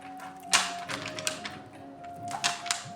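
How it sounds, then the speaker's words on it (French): Oracle cards are shuffled by hand, giving a soft run of papery taps and riffling flicks with a few sharper snaps, close and fairly quiet, with no speech. "je brasse devant vous"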